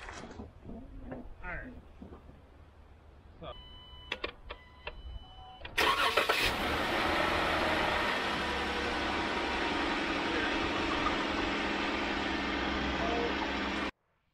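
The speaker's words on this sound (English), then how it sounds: "we're going to go ahead and start the vehicle up and we're going to look for any leaks" A Jeep Wrangler's engine cranks and fires up after an oil change, then runs at a loud, steady idle to the end, following a few quieter clicks and knocks.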